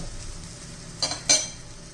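Sprouted green moong dosa flipped on a hot pan, giving two short clinking scrapes of a spatula over a soft, steady sizzle, close by with no talk.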